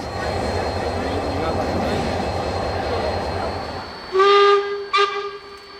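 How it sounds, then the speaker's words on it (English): Steam locomotive F 163 pulls away from Ashhurst under a full head of steam, a steady rumbling chuff of the train followed by two loud, close whistle blasts near the end. "Departing Ashhurst with a full head of steam"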